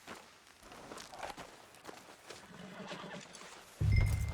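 A horse in the video game Red Dead Redemption whinnies and its hooves clop along, faint and intermittent at first, then a sudden louder thump near the end.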